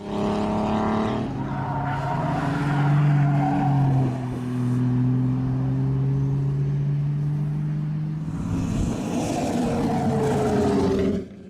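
Vintage race cars, among them a big 4.5-litre Bentley and the Iona Special, battle at close quarters on the Kirkistown circuit, loud engines droning and shifting pitch continuously, with a brief tyre squeal and a fresh roar as another car closes in near the end.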